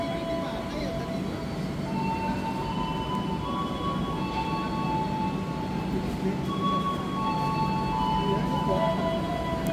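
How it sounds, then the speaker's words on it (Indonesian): Gunungjati Panoramic train pulling out of the station on its Jakarta to Semarang run, a steady low rumble of rolling rail cars with thin high wheel squeals, people talking over it. "Dengan diberangkatkannya kereta api Gunung Jati"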